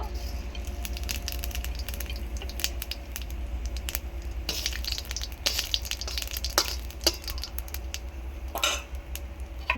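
Cumin seeds crackle and spit as they hit hot oil, a busy patter of small pops over a low steady hum, with utensil clinks close by.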